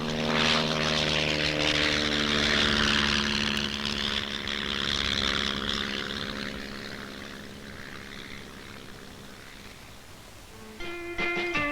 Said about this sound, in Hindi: एक झटके के साथ विमान उतारना ये उड़ान कला के प्रारंभिक प्रशिक्षण का एक हिस्सा है